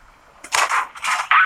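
A tank cannon fires in World of Tanks Blitz, a sharp loud report followed by a second burst a moment later, short and close with no talk over it.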